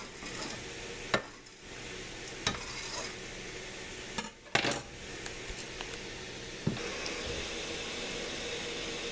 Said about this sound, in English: I'm putting my chopped up garlic in there